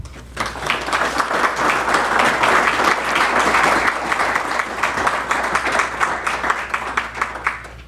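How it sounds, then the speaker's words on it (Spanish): An audience at a November 2024 institute conference in Monterrey bursts into dense, sustained applause that swells, holds steady for several seconds, then eases slightly near the end. "Les pido a todos ellos un nuevo aplauso."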